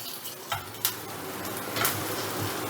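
Onion, chili, ginger and garlic frying in a pan, with a steady close sizzle broken by a few scraping stirs of a utensil.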